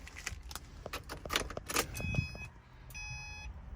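A 2009 Subaru Impreza Outback Sport Wagon is switched on: keys jangle close by, then the dashboard gives a few electronic chimes and beeps, with faint cabin noise underneath.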